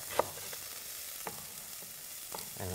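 Carrots and peppers stir-fried in a hot pan, a soft steady sizzle with a few sharp scrapes and clicks of a utensil against the pan, close and moderately quiet.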